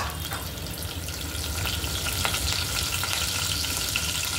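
In a tempering pan, cumin, mustard seeds, a little turmeric and curry leaves fry in hot oil with a loud, continuous close sizzle, the crackle dense and steady throughout.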